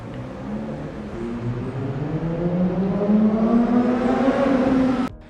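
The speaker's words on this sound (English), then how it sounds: "Traffic is constantly flowing with loud motorcycles, sports cars, and even loudmouth people who give them stiff competition." A loud motor vehicle accelerates along a busy street with motorcycles and sports cars, its engine pitch climbing steadily for about five seconds before cutting off abruptly.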